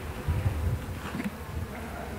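Honeybees hum at an opened hive during winter care, a soft steady buzz with a few individual bees droning louder as they pass near.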